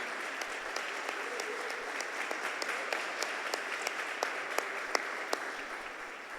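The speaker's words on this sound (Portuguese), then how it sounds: "Uma salva de palmas para o Senhor no nome de Jesus, amém?" Congregation clapping throughout a church celebration service, a steady wash of many hands with sharper individual claps standing out, moderately distant and continuous.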